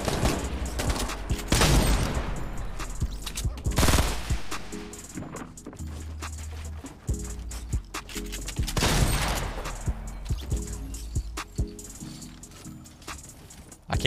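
Rapid gunfire in the video game Fortnite, repeated loud bursts of shots in clusters with short pauses between volleys, some crackling close and some further off.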